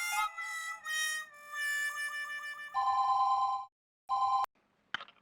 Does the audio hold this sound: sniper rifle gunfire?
no